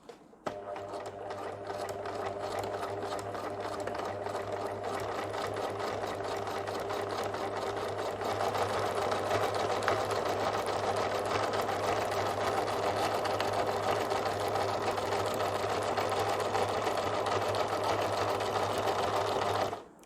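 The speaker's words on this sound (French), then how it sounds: "On fait quelques points en avant, quelques points en arrière, et ensuite on va tout droit jusqu'au bout du biais" Domestic sewing machine stitching fabric and bias binding, a steady, close, continuous mechanical whir with rapid needle ticking throughout, running without pause or talk.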